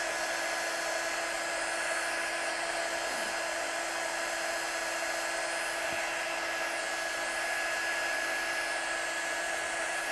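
An embossing heat gun runs continuously as it heats up, a loud, steady high-pitched whine over a rushing airflow hiss, unbroken for the whole stretch.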